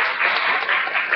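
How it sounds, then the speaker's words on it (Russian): An audience claps together at the close of a conference session, a brief, steady patter of applause with no voices over it. "Давайте аплодисменты."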